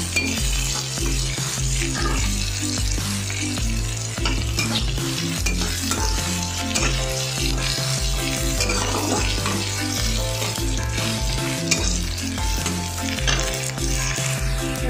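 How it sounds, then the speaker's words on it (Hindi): Onion, garlic and green chili fry over a high flame for an Odia kanji, making a steady, loud sizzle throughout with repeated stirring scrapes and light utensil clatter against the pan. "देखिपे पियाज रसुण कंचा लंका सब भल से फ्राए हो सारे"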